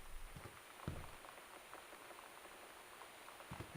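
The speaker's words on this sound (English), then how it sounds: "Just rain and occasional thunder." Rain falls steadily and softly in the video game Gone Home, a faint continuous patter on surfaces with a few slightly louder drops and no talking.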